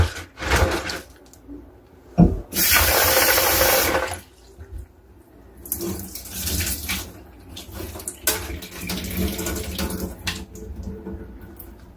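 Black-eyed peas being rinsed under running water in a kitchen, a steady gush of flowing water swelling in bursts with sloshing and rattling of the peas, close and loud with no talking.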